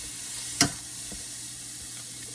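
A single brief stir of seasoned spring roll filling in a pan, one soft scraping sweep standing out over a steady low sizzle, with no voices.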